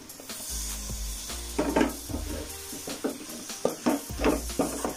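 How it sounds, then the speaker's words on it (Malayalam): Chopped tomatoes tipped into a hot pan for Kerala-style chicken curry, with a steady low sizzle and a run of clattering scrapes and knocks from utensils against the pan, close by, with no talking. "ഇനി നമുക്ക് ഇതിലേക്ക് നമ്മൾ അരിഞ്ഞ് വെച്ചിങ്ങനെ നമ്മുടെ തക്കാളി നമുക്ക് ചേർത്ത് കൊടുക്കാം."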